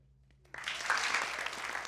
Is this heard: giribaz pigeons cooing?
no